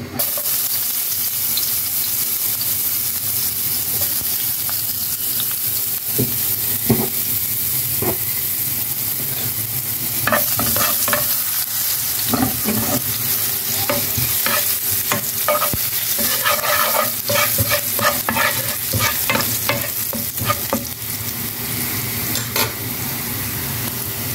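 Ginger sautés in a small amount of hot oil in a pan used for milkfish with shrimp paste, giving a steady close sizzle with repeated scraping stirs of a utensil throughout, no voices.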